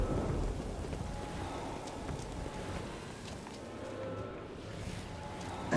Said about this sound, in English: I like how loud the storm is despite the fact I'm underground